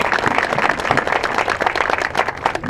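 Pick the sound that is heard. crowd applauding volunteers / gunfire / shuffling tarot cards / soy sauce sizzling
crowd applauding volunteers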